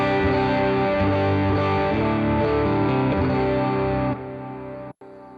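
Distorted electric guitar captured through a Neumann U87 microphone on a NUX Solid Studio setup, dense sustained chords played loud and continuous, thinning briefly near the end before a short cut.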